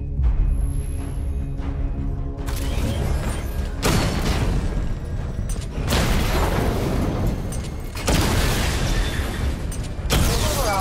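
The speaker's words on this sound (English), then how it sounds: "Destroy targets to charge up weapon energy and activate missile barrage." Weapon fire and explosions come from targets being destroyed during a missile-barrage weapon test in Batman: Arkham Knight. Several loud booming bursts sound in turn, each followed by a rumbling roar.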